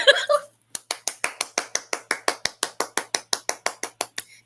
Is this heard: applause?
yes